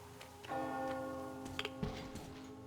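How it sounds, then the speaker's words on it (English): A bell in Metro Exodus rings out with a sustained, humming metallic tone that lingers over the game's ambient background, joined by a few soft knocks and clicks. "Do you hear that bell?"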